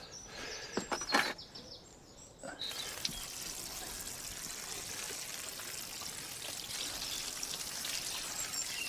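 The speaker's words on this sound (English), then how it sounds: "what you want to do is then cover that with water." Water poured into a garden bucket already filled with material, a steady gushing pour that runs continuously after a brief pause, with faint birdsong outdoors behind it.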